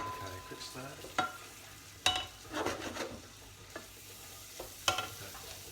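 Diced vegetables are stirred as they fry in a pot for a vegetable and lentil soup, with soft sizzling underneath and several sharp spoon scrapes and clinks on the pot at irregular moments.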